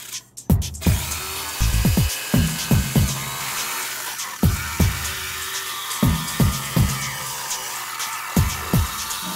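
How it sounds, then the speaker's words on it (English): A reciprocating saw cuts pieces of wood in a workshop, giving a steady high buzzing drone broken by a series of sharp thumps and knocks at uneven intervals as the blade works through the material. "I'm going to cut them out with this reciprocating saw."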